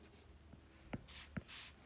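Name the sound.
writing down a math expression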